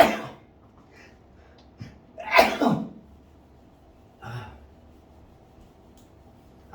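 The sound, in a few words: sneeze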